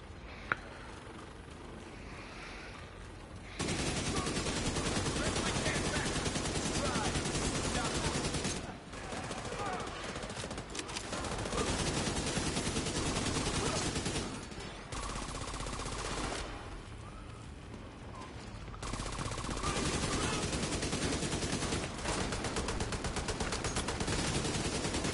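Sustained automatic gunfire from a different weapon in Division 2 on PS5, with long dense bursts separated by brief lulls, loud and continuous across the stretch.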